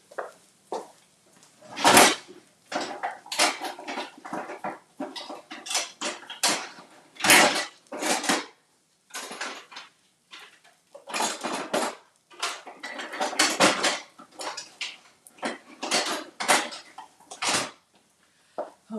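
Kitchen utensils clatter loudly as someone rummages for a small spatula while making pancakes, giving repeated irregular bursts of metallic rattling and knocking with short pauses between them.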